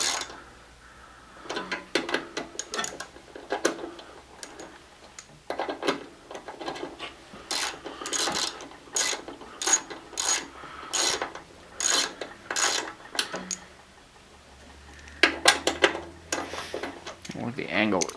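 A ratchet clicks in repeated bursts of rapid pawl ticks, snugging and then tightening bolts on a printing press motor mount in a garage, with pauses between strokes and some handling noise.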